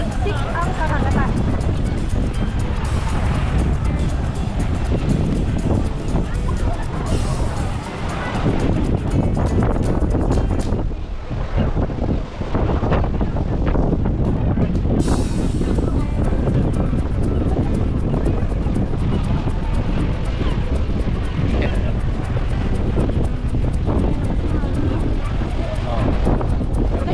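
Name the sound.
strong sea waves and wind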